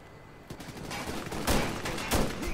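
Rapid bursts of gunfire from the video game Ghost Recon Future Soldier, with loud volleys rising around the middle and again near the end over a continuous battle din.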